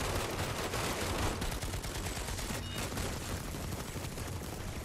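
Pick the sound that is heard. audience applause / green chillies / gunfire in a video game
gunfire in a video game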